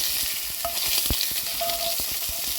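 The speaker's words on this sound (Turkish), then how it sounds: "Döküm tenceremi güzelce ısıttım. İçine tereyağını atıyorum. Şöyle bir eritiyorum." Butter melts and sizzles steadily in a hot cast iron pot, a bright, continuous frying hiss with soft clicks and taps of stirring throughout.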